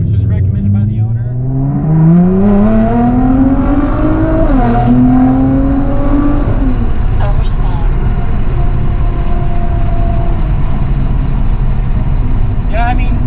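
A tuned Nissan GTR accelerates hard from second gear, its loud engine climbing in pitch through one gear and then another before settling into a steady roar and road noise, with voices talking faintly over it.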